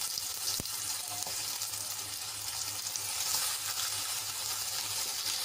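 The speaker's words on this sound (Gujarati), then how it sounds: "અને હવે એ જ કડાઈમાં આપણે ટમેટાને સાંતળી લેવાના છે" Tomatoes sautéing in a kadai for a raw mango and tomato chutney give off a continuous, close frying sizzle that holds steady throughout, with a faint stir near the start and no talking.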